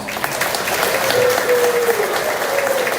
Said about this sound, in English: One more huge round of applause for our students and staff